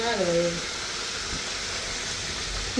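Boiled roast meat frying in a pan, a steady bright sizzle that runs throughout, with brief voices talking at the start and end.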